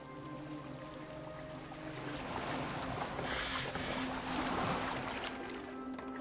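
A boat moves across open water in Assassin's Creed Valhalla, with a steady wash of waves and hull splashing swelling midway and wind over a low ambient hum, no voices.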